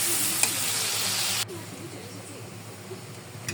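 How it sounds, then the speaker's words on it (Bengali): Minced beef frying with soy sauce in a pan, a steady loud sizzle that drops sharply in level partway through and continues more softly with light stirring scrapes. "আর দিয়ে দিব সয়া সস। এখানে লবণ ব্যবহার করব না, শুধু সয়া সসের লবণটা এই মাংসের ভিতরে ঢুকে যাবে। ভালো মতো ভেজে নেব।"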